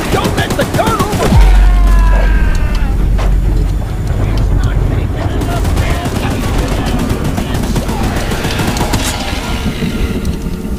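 Rapid bursts of gunfire blast at a monstrous train creature in the horror video game Choo-Choo Charles, loud and dense for several seconds with rumbling impacts, while a voice shouts over the shooting.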